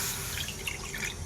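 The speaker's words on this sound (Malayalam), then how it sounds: "ഇതിൽ കുറച്ച് വെള്ളം ഒഴിച്ചെടുക്കാം കേട്ടോ" Water is poured into a cooking pot on the stove, a short, steady splashing pour with no voices.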